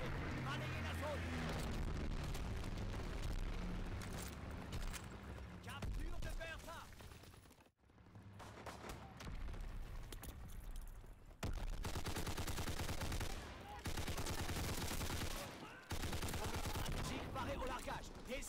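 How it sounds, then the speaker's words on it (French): Mortar shells and gunfire hammer away in a World War II video game battle, with loud dense volleys of shots and blasts, a brief lull near the middle, then renewed heavy bursts. "Obus de mortier lancé."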